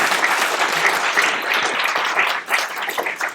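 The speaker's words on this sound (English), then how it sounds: "Let's give Ms. Manfredi a round of applause," Audience at a school IB Programme information evening clapping for a staff member, loud full applause that holds steady with a brief dip near the end.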